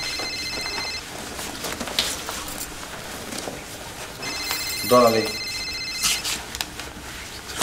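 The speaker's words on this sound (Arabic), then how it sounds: "تليفوني بيرن" A mobile phone ringing in an action film scene, a repeated electronic ring pattern heard close with voices speaking over it.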